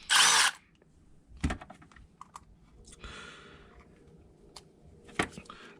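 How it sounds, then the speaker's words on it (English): A cordless power tool loosens the three screws on an electrical cord end plug under repair: one loud high whirring burst opens, then brief clicks and rattles follow, with a couple of sharp knocks and handling sounds between quiet gaps. "I just like to use power tools, they're quicker."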